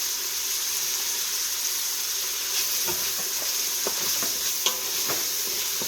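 Vegetables with parsley sauté in an Instant Pot, giving a steady close hiss of sizzling with a few soft stirring scrapes and clicks over it and no talking.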